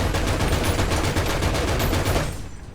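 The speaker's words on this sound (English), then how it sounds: "who needs a main gun when you got a 50 cal?" A .50 cal machine gun on an M8 LAC armored vehicle in War Thunder fires one long, rapid, steady burst of closely spaced loud shots, then trails off into a fading echo at the end.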